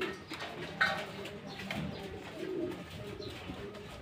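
A pigeon coos softly at some distance in a Filipino bird-keeping setting, a few low rounded calls spread through a quiet, faintly noisy outdoor background.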